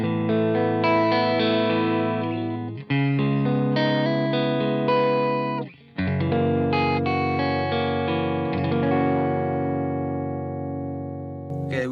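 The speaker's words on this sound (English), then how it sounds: "this is the clean tone without reverb or delays" A clean electric guitar played through a Jet Pedals Revelation reverb pedal set dry, with no reverb or delay, rings out in sustained chords and notes. There are two short breaks, and the tone stays bright and close.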